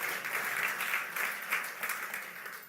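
A church congregation applauds steadily at a French-language worship service, dense overlapping clapping with a few faint voices mixed in, holding an even level throughout.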